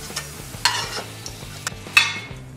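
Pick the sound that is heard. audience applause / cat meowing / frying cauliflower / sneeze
frying cauliflower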